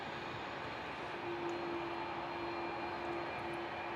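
Malaysia Airlines Airbus A330-300 taking off at Melbourne Airport, a distant steady engine roar with a faint whine, continuous and fairly quiet.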